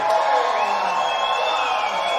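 Football crowd in the stands at a Valley Huskers home game against the Westshore Rebels, a steady distant roar of cheering with a few whistles rising over it, sustained throughout.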